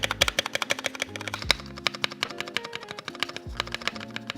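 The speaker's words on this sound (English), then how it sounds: "you guys can hear the sound difference just with the material of the keycap itself on that spacebar" Fast typing on a custom Ninja 71 mechanical keyboard with lubed Kailh Red switches: dense, rapid keystroke clicks with periodic deeper thocks from the spacebar, close and steady, no voices.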